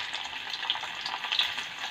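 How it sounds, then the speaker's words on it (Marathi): Chopped okra frying in hot oil in a kadhai gives a continuous bright sizzle and crackle, close and steady, with faint stirring. "इथे मी आता तेल तापवत ठेवलं होतं कढईमध्ये आणि हे भेंडे जे आपण चिरले आहेत ते आता आपण तळून घेणार आहोत"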